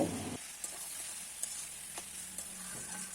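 Bottle gourd with ginger and cumin paste stirred in a frying pan, a quiet steady sizzle with faint scraping strokes of a spatula at irregular intervals, a brief louder clatter at the start.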